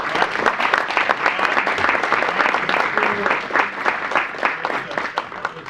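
Applause for panelists after a Q&A discussion, a crowd clapping steadily at moderate volume, individual claps audible in an even patter that continues for several seconds.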